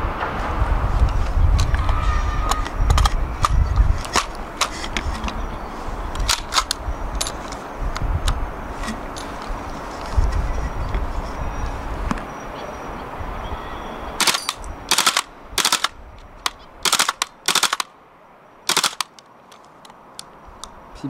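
Sharp, separate shots from a 3D-printed K2C1 gas blowback rifle crack out in a loose string, clustered and spaced apart near the end, over low background rumble and handling noise.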